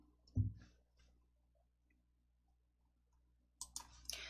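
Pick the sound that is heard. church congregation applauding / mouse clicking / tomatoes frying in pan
mouse clicking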